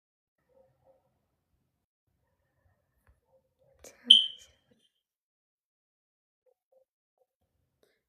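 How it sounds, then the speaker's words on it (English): A household fire alarm gives a single short, quiet chirp in an otherwise near-silent room. "was that your fire alarm I heard?"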